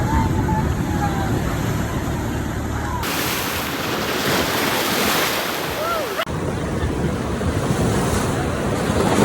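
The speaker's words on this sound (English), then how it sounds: "There's another beach." Waves wash ashore at a beach, a steady close rush of surf mixed with gusty wind buffeting the microphone, with voices faintly present.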